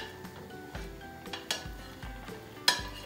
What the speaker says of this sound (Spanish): vamos a saltear el ají, la cebolla. Tiene un poco de apio